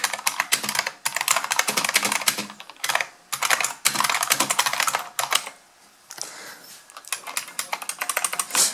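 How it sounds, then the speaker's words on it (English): Rapid clacking keystrokes on an IBM Model M buckling spring mechanical keyboard, typed in quick bursts with a few short pauses, close and loud throughout. "could you do some typing for us, just so that we can hear the amazing noise of that keyboard?"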